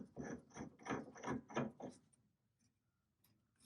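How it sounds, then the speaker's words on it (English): Pitman arm puller being tightened on the sector shaft of a Willys Jeep Ross steering gear box, giving a run of about six quick, close ratcheting clicks before a few faint scattered taps. "Continue to tighten your Pitman arm puller"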